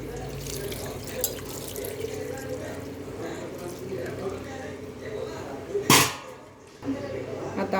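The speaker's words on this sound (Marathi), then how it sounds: "थंड पाणी घालून आपण मॅगी पूर्ण थंड करून घेणार आहोत." Cold water pours from a tap over cooked Maggi noodles in a kitchen, a steady running splash with a brief, sharper gush near the end.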